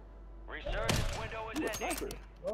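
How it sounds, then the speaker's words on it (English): A sniper rifle shot in the Warzone 3 video game, one loud close crack with a rumbling tail and scattered game effects, under players' excited talk. "Hold on, I'm about to snipe this kid."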